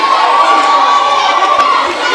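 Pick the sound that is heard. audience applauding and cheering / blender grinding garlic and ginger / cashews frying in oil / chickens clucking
audience applauding and cheering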